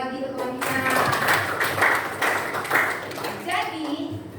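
Classroom students clapping together in a brief, dense round of applause, with a teacher's voice speaking over and around it.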